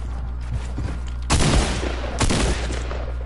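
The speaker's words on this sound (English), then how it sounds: "It's a minigun." A minigun in Fortnite fires two loud, dense bursts about a second apart, each a rapid rattle of shots over a low background hum.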